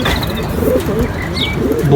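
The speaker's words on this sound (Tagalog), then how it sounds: "bulak na ibon." Young pet pigeons or doves cooing and chirping in a backyard loft, soft repeated calls over a steady background hum with no talk.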